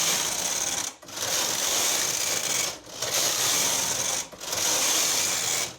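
A punch card knitting machine carriage runs back and forth while knitting a baby bunny cap, making a loud, continuous mechanical whir broken by three brief pauses as the carriage changes direction.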